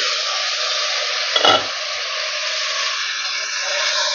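Chicken for dum biryani simmering in a covered pot, a steady, even hiss of cooking with one brief clink of the lid or a utensil partway through, close and continuous with no voices.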